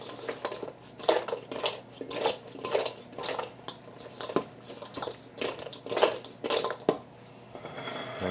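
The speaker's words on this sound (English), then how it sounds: "Give it a real thorough toss." Chicken wings tossed in buffalo sauce in a bowl, with repeated rhythmic clattering and wet sloshing as the bowl is shaken over and over, close and fairly clear.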